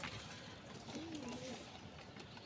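Pigeons in a loft, including a silver pair with a chick, giving a faint low coo around the middle against a quiet, hissy background; a voice murmurs softly.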